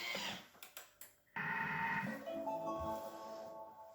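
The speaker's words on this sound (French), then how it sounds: "je vais mixer 10 secondes à vitesse 2" A food mixer blends lemon juice with agar-agar at speed 2, starting after a few clicks and knocks, then running as a loud, steady whirring drone that eases slightly toward the end.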